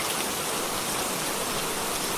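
Heavy torrential rain on a dark night falls as a dense, steady, loud hiss with no breaks and no voices.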